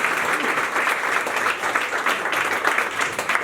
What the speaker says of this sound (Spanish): Pido un fuerte aplauso para Juan.